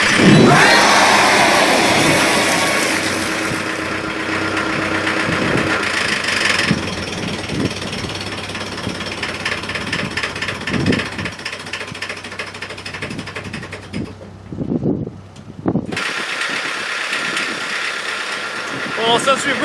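Waldon loader engine idling in winter cold while warming up, a steady rumbling idle with rhythmic mechanical knocking, interrupted briefly near the end, with people talking at times.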